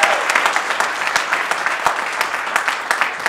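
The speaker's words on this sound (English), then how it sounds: "So let's give Cyrano's a big round of applause." Audience applause fills a mayoral forum hosted by the Anchorage Arts Alliance, a steady wash of many hands clapping at close range with no speech over it.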